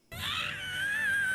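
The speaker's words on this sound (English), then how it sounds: "That's quite some scream." A single sustained, high-pitched anguished scream from a Naruto Shippuden anime episode starts abruptly and holds steadily for over a second, fairly quiet, with no speech over it.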